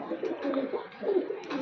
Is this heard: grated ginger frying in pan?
no